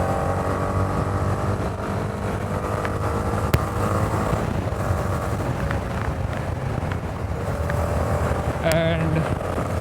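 A Honda motorcycle engine hums steadily while riding, mixed with wind rush at moderate level, and a voice speaks over the ride.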